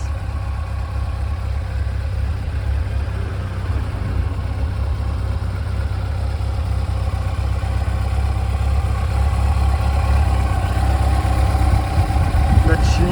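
Yamaha FJR motorcycle engine, an open full-power version imported from Germany, idles steadily close by with a low, even rumble that swells slightly toward the end.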